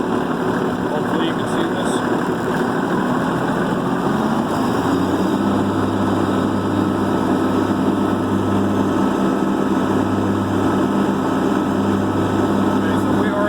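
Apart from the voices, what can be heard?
Kubota B2650 tractor engine revving with PTO engaged, mower running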